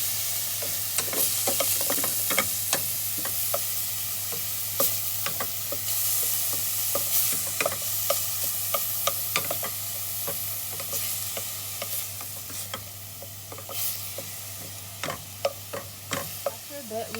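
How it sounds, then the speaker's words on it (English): Onion sautéing in a pan for a sweet vegetarian Moroccan couscous: a continuous close sizzle under repeated scraping and stirring clicks from a utensil, with no speech. "And we just saute the onion a little."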